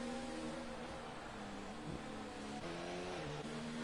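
Formula 1 race cars jostle to overtake on the Monaco street circuit in a racing game, a steady droning engine whine holding high revs with small pitch shifts, constant and fairly faint.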